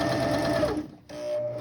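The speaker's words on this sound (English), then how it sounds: "I'm just gonna go ahead and stitch going down" A sewing machine runs steadily as it bastes a zipper into fabric, a close, continuous motor whir with needle chatter that stops briefly near the middle, then starts up again.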